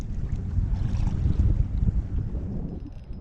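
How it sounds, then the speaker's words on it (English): Steady wind blusters over a small boat fishing for squid at sea, a continuous rumbling gusty roar with water movement underneath, fairly close and loud with no talking. "The wind's starting to spring up"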